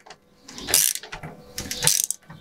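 A ratchet clicks in two quick bursts while a part is tightened during restoration of a city bicycle, the close, crisp pawl ticks coming in short spurts with brief pauses between.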